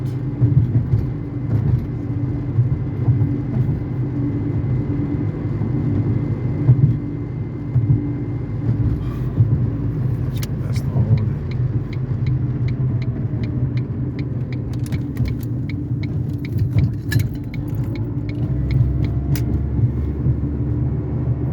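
A car driving on a local side road in the United States in fog, heard from inside as a steady engine rumble and road noise with occasional faint clicks, continuous throughout.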